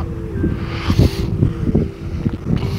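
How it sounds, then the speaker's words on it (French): A passing boat engine drones low and steady nearby near an island, with wind buffeting the microphone and a few flapping knocks over the rumble. "Non, c'est un autre bateau."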